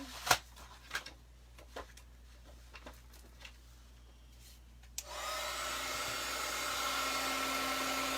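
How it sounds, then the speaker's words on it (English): A heat gun for heat embossing in cardmaking switches on and blows with a steady, loud whooshing hum that continues to the end, preceded by scattered small taps and clicks in a quiet room. "Bring out the heat gun."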